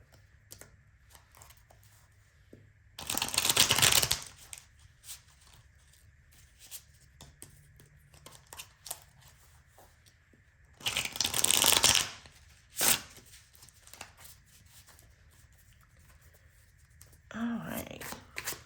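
Oracle cards being shuffled in two dense bursts of riffling, each a few seconds long, followed by a shorter third burst near the end. The setting is quiet with faint background noise and no talking.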